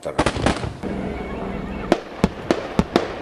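Sharp, booming reports from a military helicopter firing S-8 rockets and a 30 mm cannon at a tank-reinforced target during an Indonesian army combat exercise demonstration, a loud burst followed by several spaced cracks over a live announcer's voice.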